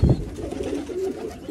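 Pigeons in a coop give soft low cooing calls close by, starting with a dull thump, then a steady murmuring coo with no talking.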